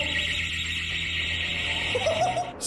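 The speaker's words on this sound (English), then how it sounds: "they set an alarm off after yanking open one particular door" A door alarm goes off after a door is yanked open: a steady, loud, high electronic tone sounds continuously for a few seconds, and a brief scraping noise comes near the end.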